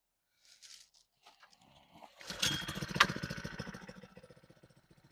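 A hand-operated two-speed jumping jack compactor engine starts up after a few faint knocks and then runs loudly nearby, with a steady fast thumping rhythm that peaks and then settles into an even idle-like pulse outdoors in the cold.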